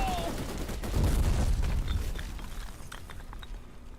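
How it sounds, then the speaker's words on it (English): Rapid machine gun bursts in a video game, loud and dense at first and then thinning into scattered shots and mechanical clatter, with a voice speaking over part of it. "It's a machine gun."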